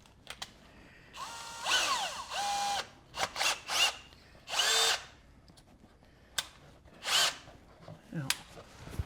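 A power drill with a right-angle attachment bores into wood for a woodworking drawer-stop build, running in several short whirring bursts with pauses, clicks and handling noises between them.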